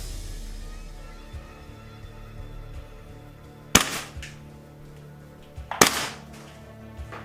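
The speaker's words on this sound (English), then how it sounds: "we're going to see if the PDW shoots any different now" A WE PDW airsoft gun fitted with an RA-Tech precision inner barrel and hop-up fires two sharp, isolated shots about two seconds apart, each with a brief rattling mechanical tail, against a quiet background.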